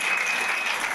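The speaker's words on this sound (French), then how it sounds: "Acclame Jésus" Church congregation applauding together, a dense steady wash of clapping that stays loud and even for the whole second with no voices over it.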